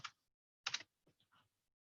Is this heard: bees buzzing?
no